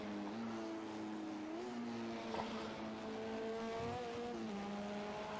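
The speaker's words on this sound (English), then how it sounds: "by the sounds of his engine, it sounded like he just ran out of fuel" An LMP2 prototype race car engine in a racing game on the Daytona Road Course, sputtering as it runs out of fuel: a steady, moderately loud drone with wavering pitch that dips and recovers over several seconds, with no voices.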